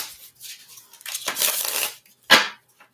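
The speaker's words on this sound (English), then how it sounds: "They shuffle very nicely." Small tarot cards the size of playing cards are shuffled by hand in short crisp riffling bursts, close and fairly quiet, with a sharper riffle near the end.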